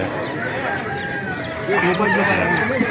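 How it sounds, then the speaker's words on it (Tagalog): Several chickens cluck and squawk close by, with a rooster's call mixed in over steady outdoor background noise. "Papakita ko sa inyo yung mga manok dito sa Baliwag"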